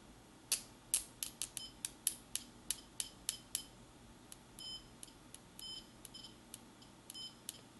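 A Rigol DM3068 6.5-digit digital multimeter gives short, sharp continuity beeps as the probes are tapped together, a rapid irregular series of about twenty-five close, fairly loud chirps, with no talking.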